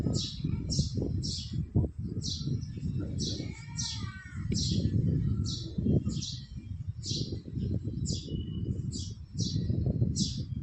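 A mother sparrow and her two chicks chirp in quick repeated bursts throughout, fairly close, as she feeds them, over a steady low rumble and murmuring voices.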